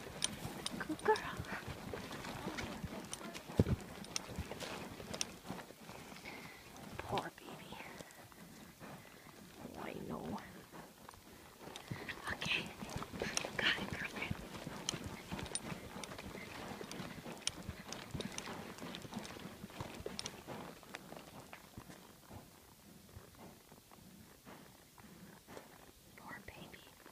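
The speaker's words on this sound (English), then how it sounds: "I don't know why she's trying to canter up this thing." A horse canters up a steep ranch hill near Spokane, Washington, hooves thudding and clip-clopping in an irregular rhythm for the whole stretch, with close, quiet rider's talk and breathing over the top.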